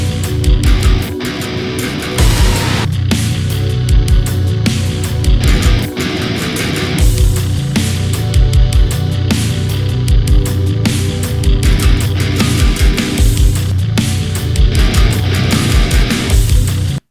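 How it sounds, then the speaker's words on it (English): Dense, loud heavy metal production with distorted guitars and pounding low end. Quick glitchy, stuttering guitar cuts chop the sound at several points, and no one speaks. "there's a couple of quick little glitchy guitar moments again"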